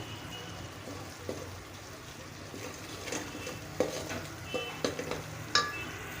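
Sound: sautéing mutton masala and turmeric in a pan

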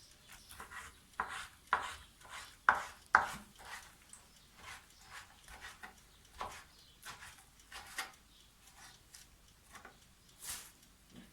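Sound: chopping food with a knife

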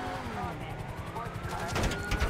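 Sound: police gunfire in video game GTA 5

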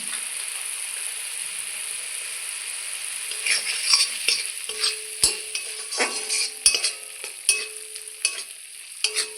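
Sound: spices with Kashmiri chili powder sautéing and stirred in a pan

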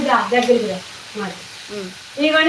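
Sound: gongura dappalam frying in oil

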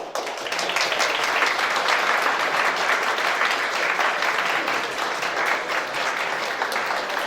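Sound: applause at a school prom ceremony

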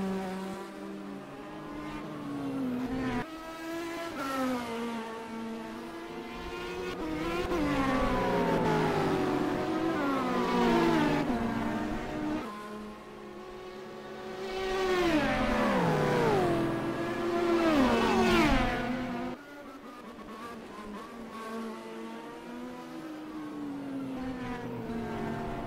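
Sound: race cars lapping at Monza

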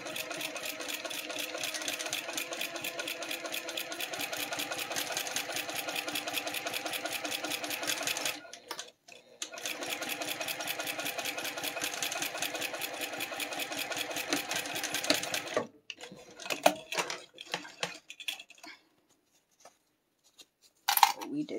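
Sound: sewing machine edge stitching fabric

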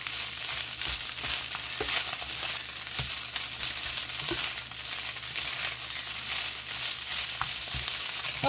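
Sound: frying in melting butter

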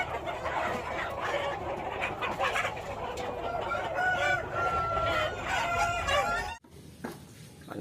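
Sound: rooster crowing, toy rooster

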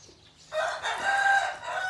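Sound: rooster crowing

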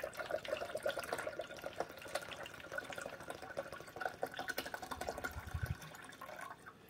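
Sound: pouring water into Braun coffee machine reservoir

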